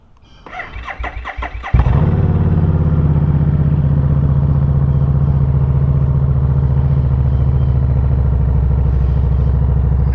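A Harley motorcycle fitted with a slip-on muffler cranks with a rapid starter clatter, fires into a loud, close rumble and settles into a steady, high idle with no talking.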